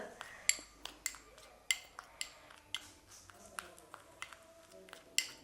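Spoon clinking and scraping against a bowl while a face pack of milk and powder is mixed, a run of sharp close taps and clatters in an uneven rhythm with no talk.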